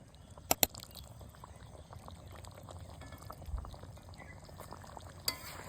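Garam masala paste going into a pan of cooking mutton chusta, with soft stirring and scraping, a few sharp spoon clicks near the start and one near the end, all quiet and without talk.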